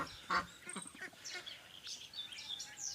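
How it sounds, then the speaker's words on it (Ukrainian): Old moulting muscovy ducks in a backyard flock giving soft, breathy quacks and hisses, several short calls scattered at close range, faint over quiet outdoor background. "Ці старенькі качки не несуться, так як вони линяють."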